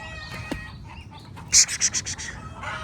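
A rooster crows once near the middle as a loud series of rising, pulsing calls, heard alone over a low, steady background hum with no talking.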